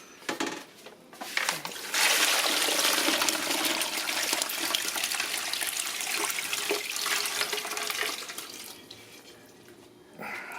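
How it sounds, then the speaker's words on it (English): Turkey brine pours from a container into a bucket holding a turkey, breast side down, on the floor. A steady splashing gush runs for several seconds, then tapers off, with a few softer trickles and knocks around it. "now we're going to pour our brine in there"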